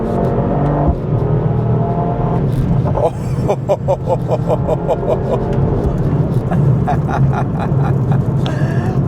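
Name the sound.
Mercedes-AMG car accelerating during an overtake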